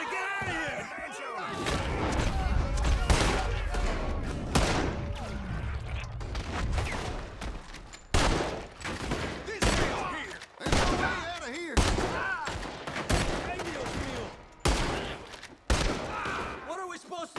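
Gunfire in Red Dead Redemption 2, a chaotic firefight of repeated sharp shots and bursts scattered across the whole stretch, loud and close, with shouting voices heard between the volleys.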